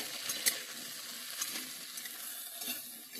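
Cauliflower pieces fry in a pan over a raised gas flame, giving a steady soft sizzle with a few light stirring clicks and scrapes, faint and close with no talk.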